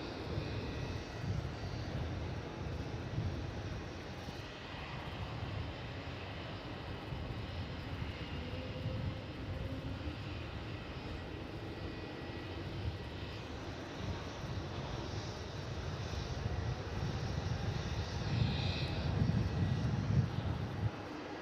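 An aircraft takes off from runway 27 at Melbourne Airport, its engine roar heard steadily throughout at moderate distance and building toward the end, with no voices.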